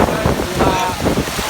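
Storm wind gusts roar steadily into the microphone at an outdoor village festival, a loud continuous rush with faint voices beneath.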